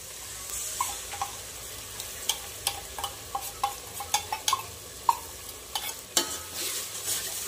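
Masala for egg biryani sizzles softly in a pan while being stirred continuously, with regular scraping and tapping strokes of the spoon over the low hiss, nearby.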